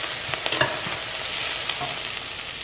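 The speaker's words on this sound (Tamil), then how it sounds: "தக்காளி போட்டாச்சு, இது கொஞ்சம் வதங்கட்டும்" Onions and tomatoes sauté in a pan for restaurant-style tomato soup, giving a continuous close sizzle broken by soft spoon clicks and stirring scrapes, no talking.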